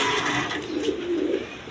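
Racer pigeons and other breeds coo in a low, rolling murmur at a pigeon dealer's stall, steady throughout with a brief higher call near the middle.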